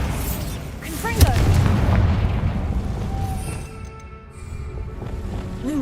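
A Confringo blasting spell booms in Hogwarts Legacy, a single loud burst that rumbles and trails off over busy game sounds.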